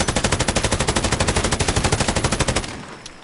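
An LMG in Call of Duty Modern Warfare fires a sustained, rapid burst of evenly spaced loud shots for about two and a half seconds, then stops and leaves a short ringing tail.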